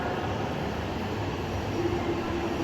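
A train pulling into a platform at a Tokyo station, a steady loud rumble of rail and wagons with a faint brake squeal rising near the end, no voices.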